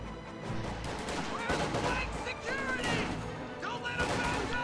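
MG34 machine gun fire from inside a building during a World War II strategy game battle, mixed with other gunfire, explosions and crashes in a busy, dense combat soundscape, with a commentator talking over it.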